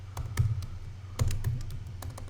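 Fingers tap on a computer keyboard in short clusters of quick, light clicks with brief pauses, close and fairly quiet over a low hum.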